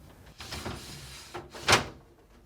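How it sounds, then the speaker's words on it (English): Large glass shelf sliding into place inside a Whirlpool refrigerator, with soft scraping shuffles and a single sharper clack as it seats, close and fairly quiet. "To reinstall the larger glass shelf, place the back edge on the cover and carefully slide into place."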